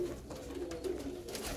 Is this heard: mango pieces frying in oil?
no